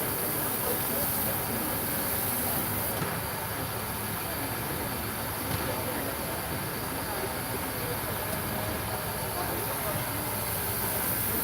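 Union Pacific 4014 Big Boy steam locomotive standing in a station, giving off a steady, continuous broadband hiss of steam at close range, with a low rumble underneath and some faint voices mixed in.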